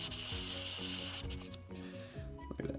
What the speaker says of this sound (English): Let's go to 240 for a second, people. This is pretty aggressive, so. Sand it. Sand it.